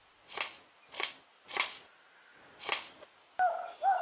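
A lyrebird mimics wood chopping: four dull, crisp knocks land at a slow, even pace, like an axe striking wood, followed by a couple of sharper, brighter clicks.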